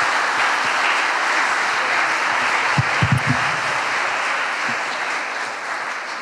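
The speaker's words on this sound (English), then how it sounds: "please round of applause" A conference audience claps after a keynote on SaltStack configuration management, steady applause through the room with a few sharper claps near the middle, slowly thinning toward the end.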